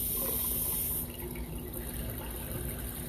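Cold water running from a tap into a utility tub, a steady hissing stream that continues throughout at a moderate level, with no talking.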